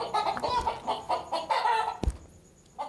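Chickens cluck and squawk in a dense, close flurry of calls, with a sharp thump near the end before the sounds thin out, no speech.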